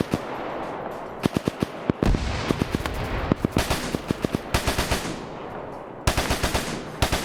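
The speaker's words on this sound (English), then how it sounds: "No, that's a PPSH." A PPSh submachine gun fires in a WW2 video game, loud, rapid automatic bursts with short pauses between them, heard close over other distant gunfire.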